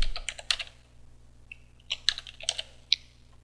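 Someone types a short message on a computer keyboard, producing two close bursts of quick, crisp key clicks separated by a brief pause, with no voices.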